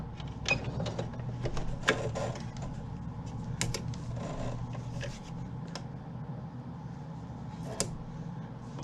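A sewing machine stitches fabric curtain tabs, its steady mechanical whir broken by a few sharp clicks and knocks from the needle and handling, fairly close and with no talking.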